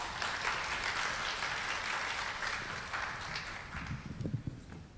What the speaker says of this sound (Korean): 큰 박수로 모셔주시기 바랍니다